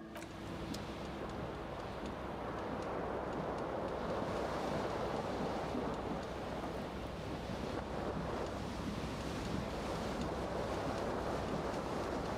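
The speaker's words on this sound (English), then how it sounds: "A cool wind gushes in." Cool wind gusts in through an open balcony doorway, a steady, full rushing roar that holds without a break for the whole stretch, with no voices.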